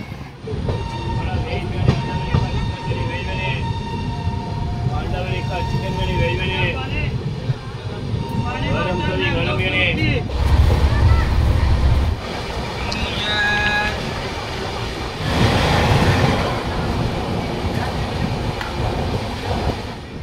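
A train pulls into a village railway station with rumbling wheels and rolling clatter over the rails, and squealing brakes as it slows. A voice talks over the noise for most of the time.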